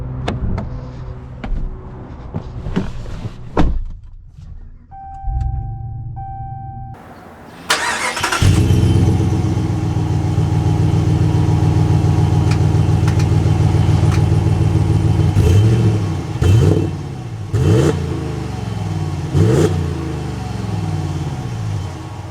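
Ram 1500 Rocky Ridge K2 pickup truck starting up and pulling away, a loud close engine roar after a few clicks and a chime, then steady revving with several rises in pitch as it drives off.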